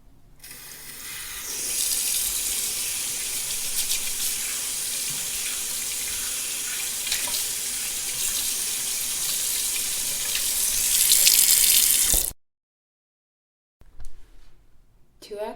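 Steady rush of water pouring from a bathroom tap into a basin for about twelve seconds, cutting off abruptly, followed by brief quiet and faint handling noises.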